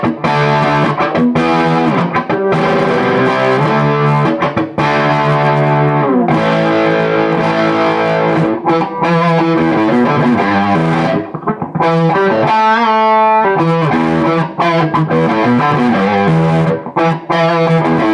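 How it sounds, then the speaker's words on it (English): Electric guitar with a sharp, gritty distortion plays a sustained riff of chords and bent notes, loud and close. "it'll also do a really nice cutting distortion sound."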